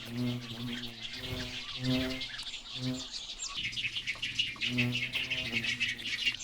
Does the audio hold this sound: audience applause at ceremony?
no